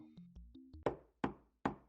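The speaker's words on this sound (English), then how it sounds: "A knock on the door interrupts their idle chatter." Three evenly spaced, sharp knocks on a door, close and clear, follow a short run of soft electronic chime tones in the Steins;Gate visual novel game.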